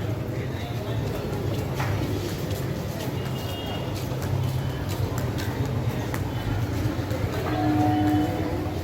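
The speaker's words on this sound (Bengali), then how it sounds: "ওই ট্রেন চলে যাচ্ছে মায়ের সায়নাঘাট।" A train rolls past near Sri Sarada Ma's Ghat, a sustained rumbling clatter of wagons over the rails that swells slightly near the end, while people talk over the noise.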